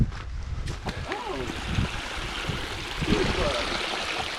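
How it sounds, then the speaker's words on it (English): Water spilling out of rocks beside an uphill mountain hiking trail, the Chinnabee Silent Trail, makes a steady close trickle and splash throughout, with a voice briefly heard over it. "Love how the water's just coming out of the rocks here."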